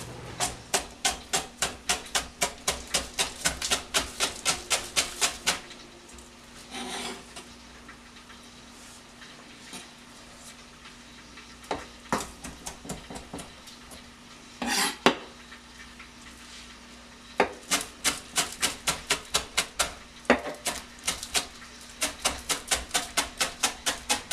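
Knife chopping food on a cutting board in rapid, evenly spaced bursts of sharp knocks, pausing for several seconds between runs, close and clear with no talk.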